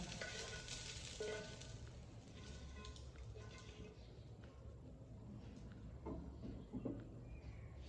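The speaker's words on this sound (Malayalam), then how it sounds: "ഇതിലേക്ക് നമുക്ക് കട്ട് ചെയ്ത് വെച്ചിരിക്കുന്ന ചിക്കൻ പീസസ് ഇടാം" Cut chicken pieces going into a hot pan for Chinese-style noodles, with a steady close sizzle and faint scraping as the pieces settle and fry, no talking.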